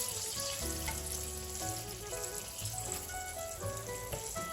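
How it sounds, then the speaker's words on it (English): Shrimp sauté in a pan over high heat for risotto, with a loud, continuous close-up sizzle and crackle and no talk. "shrimp is on. I'm going to let those saute"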